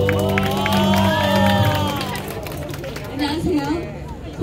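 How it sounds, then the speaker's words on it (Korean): Street busking crowd in Hongdae applauding and cheering as a volunteer steps forward, with a voice speaking over amplified music before lively crowd chatter and cheers rise toward the end. "박수 한 번씩만 부탁드릴게요"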